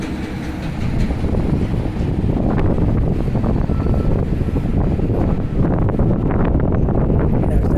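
Strong wind buffets the microphone on an open city street beside a construction area, a constant loud, rumbling roar with gusty fluctuations throughout.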